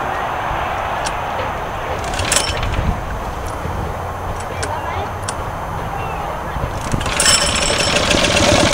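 A Honda GX200 small engine, the egg motor, runs with a steady, close, rough mechanical chugging throughout, growing louder and busier near the end, with a voice heard over it.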